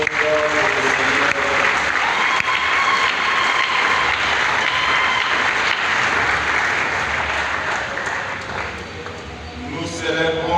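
A church congregation at a Gaudete Sunday Mass in the Shalom church applauds warmly, sustained and dense for about ten seconds, with a few voices mixed into the crowd noise.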